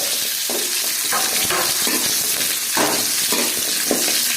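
Drumsticks tipped into hot sizzling oil with curry leaves for drumstick kuzhambu, giving continuous loud frying crackle with irregular thumps and stirring clatter throughout.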